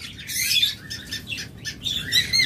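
Pet birds chirp in quick, bright bursts nearby, overlapping in an irregular chatter with no one talking.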